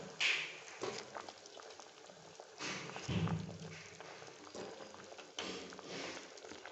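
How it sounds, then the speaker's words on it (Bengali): Fried bread sweets simmer in thickened sugar syrup over a low gas flame, giving soft, faint bubbling with a few light clinks and taps nearby. "গ্যাসের ফ্লেমটা একদম লোয়ে করে দিয়ে এগুলোকে আমি 2 মিনিট মতন একটু সময় নিয়ে ফুটিয়ে নেব"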